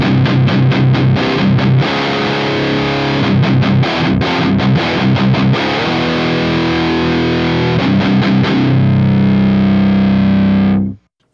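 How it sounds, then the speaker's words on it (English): A heavily distorted electric guitar plays through a Revv Generator MK III amplifier in blue aggression mode, loud chunky palm-muted chugs and sustained chords with rhythmic stops, ending on a held chord that cuts off. "the distortion on these amplifiers are definitely super chunky sounding"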